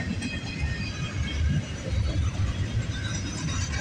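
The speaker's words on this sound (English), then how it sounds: "This is one long intermodal train." A long intermodal freight train rolls past nearby, giving a steady dense rumble of wheels and cars with faint squeals, alone without talk.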